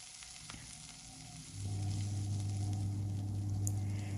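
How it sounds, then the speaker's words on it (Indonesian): Torn kaffir lime leaves sauté in a hot pan with a steady, close sizzle that jumps louder partway through and holds as a continuous frying hiss. "Nanti ditumis dulu sebentar, biarkan aroma daun jeruknya keluar dulu."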